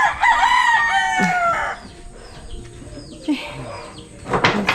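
A rooster crows loudly nearby, followed by softer clucking and scattered calls from several chickens.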